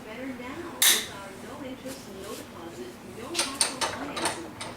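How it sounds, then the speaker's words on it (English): A snap ring is fitted into a TH400 transmission rear carrier clamped in a vise, heard as sharp metallic clinks and ratcheting clicks, including one loud clank early on, with someone talking in between. "just put it in the vise just so we can install our snap ring in the rear carrier"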